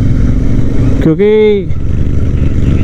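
A Royal Enfield Interceptor 650 Mark 2 motorcycle ridden on a cold winter night, its loud, steady engine and wind roar filling the whole stretch while someone briefly speaks over it.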